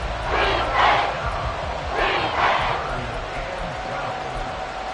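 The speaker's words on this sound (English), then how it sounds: "This crowd turning up the decibel level." A crowd in a football stadium roars during a late-game Bills third down, a loud, dense wash of cheering and shouting that surges twice and then holds steady.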